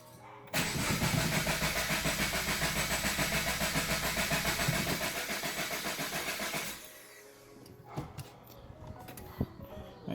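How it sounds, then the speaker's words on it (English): Subaru BRZ with a turbo build and low fuel pressure, its starter cranking the engine in a fast, steady rhythmic churn for about six seconds without catching, then falling quiet apart from faint clicks. "start the car and just kind of let it die, let it use up the remaining fuel in the system"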